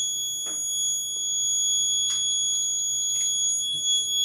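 A vehicle accident detection system built on an 8051 microcontroller with GSM and GPS sounds its alarm, a steady high electronic buzzer tone held continuously, with a few brief clicks and knocks from handling alongside it.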